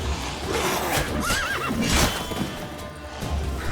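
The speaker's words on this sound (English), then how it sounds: "This horse just kicked me over twice." A horse in The Witcher 3 whinnies with a wavering neigh over hoof clops and ambient game noise, close and fairly loud, with no talking.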